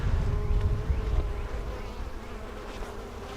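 Honey bees buzzing steadily at a hive entrance fitted with an entrance reducer, a continuous close, moderately loud drone.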